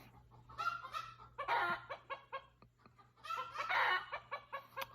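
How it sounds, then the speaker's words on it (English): Chickens cluck in repeated bursts in the background, with no talking. "You can hear chickens in the background."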